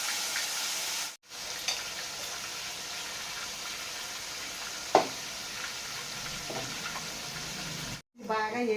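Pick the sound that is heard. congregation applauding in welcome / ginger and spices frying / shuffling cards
ginger and spices frying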